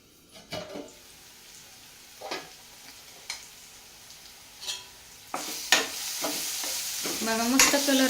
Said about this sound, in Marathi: चला तर आता डाळीला फोडणी देऊया